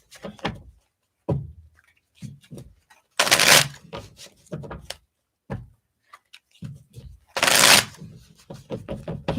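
Playing cards shuffled for a card reading: quick riffling bursts twice among scattered taps, thumps and soft handling sounds, close and fairly quiet.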